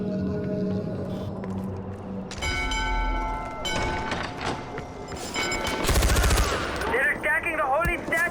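Machine gun fire in the Far Cry 4 shooter game during a battle at a temple, sustained rapid bursts growing louder toward the end, mixed with ringing tones and loud in-game voices.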